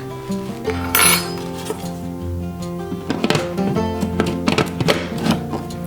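A spoon stirs pumpkin pie spice into chocolate chip pumpkin cookie batter in a bowl. Close clinks, knocks and scrapes come at an irregular pace against a soft, steady tonal background.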